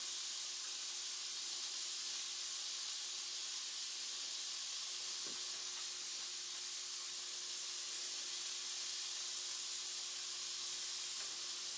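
Slider patties cook on a griddle with an even, continuous hiss and sizzle, faint and steady throughout, broken only by one brief soft tap.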